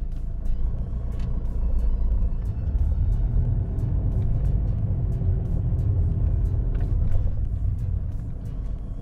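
A car rolls slowly over a flat surface at under 20 km/h with the steering wheel held straight. The low rumble stays steady and close throughout, with faint clicks and ticks above it and no voices.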